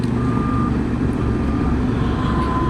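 A truck reverses with steady repeating backup beeps along a muddy road, its engine rumbling continuously beneath, heard up close over the drone of a nearby motorcycle.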